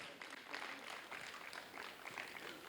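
Audience applause for Sukhman on stage at a theatre workshop's culmination day: a steady, dense wash of clapping from a crowd, sustained at even loudness throughout with no voices.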